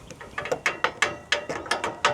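Ratchet wrench clicking rapidly as lug nuts are loosened on a 4x4, about a dozen sharp close pawl clicks in an uneven rhythm, loud and alone.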